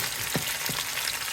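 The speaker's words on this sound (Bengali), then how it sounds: "রেডি বিফ বার্গারের জন্য বিফগুলা চুলা দিয়ে দিয়েছি" Beef patties for homemade burgers frying on a stovetop, a brief burst of close sizzling with a couple of soft thumps, no voices.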